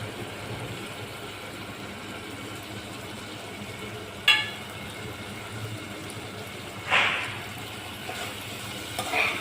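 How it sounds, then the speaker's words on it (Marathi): Whole masoor khichdi mixture, just dusted with cinnamon powder, is stirred in a sizzling pan: a soft continuous frying hiss broken by three distinct scraping strokes of the spoon, heard up close with no voices. "आता आपण दालचिनीची पावडर घालत आहोत."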